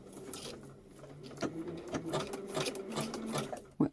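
A domestic sewing machine runs a zigzag stitch through coffee filter paper, a quiet rapid mechanical whirring with needle clicks and a sharp knock at the end, close and alone.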